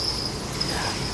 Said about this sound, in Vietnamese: Cái này là dế con nhỏ.